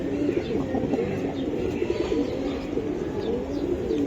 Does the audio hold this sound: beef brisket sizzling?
no